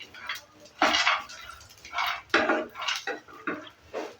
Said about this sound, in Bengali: জাস্ট একটু দিয়ে নেড়ে চেড়ে নিচ্ছে।